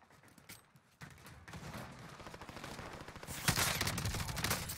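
Rapid automatic fire from a video game gun rattles in quick bursts, starting faint and building louder and denser toward the end, with no voices.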